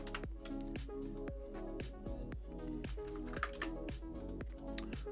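Computer keyboard typing, including a Control X press, during a Roblox game-building session: a steady run of sharp key clicks over a sustained tonal background.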